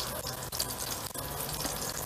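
Cutlets fry in a pan at a campsite, giving a continuous, fairly quiet sizzle and crackle with a few small pops.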